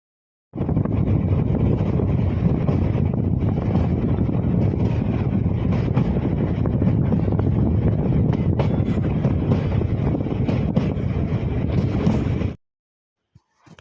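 Steady, loud rushing wind noise buffeting the microphone over a low rumble of a moving train, continuous for about twelve seconds before cutting off.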